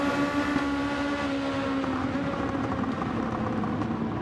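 A Lamborghini GT race car in Gran Turismo 7 drones past at Spa with a loud, steady engine roar, a constant high-revving tone held throughout without any speech.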